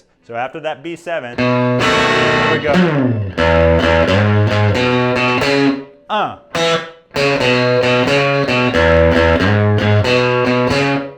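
A distorted electric guitar plays a blues outro bass line broken into choppy phrases with short stops and sliding notes, loud and close. Someone speaks briefly at the start.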